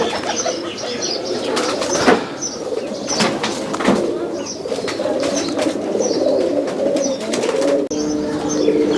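Pigeons coo steadily at a pigeon farm in Rajshahi, with a soft chorus of many birds close by, occasional wing flaps and a few louder knocks.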